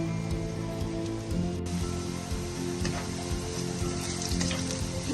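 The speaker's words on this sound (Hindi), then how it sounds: "प्याज को फ्राई करके लाइट गोल्डन से कलर का फ्राई कर लेंगे" Sliced onions fry in oil toward a light golden colour for a chicken and bitter gourd dish, giving a steady soft sizzle with faint crackles over a low constant hum, no voices.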